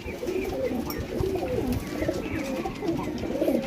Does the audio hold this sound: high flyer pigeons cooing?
yes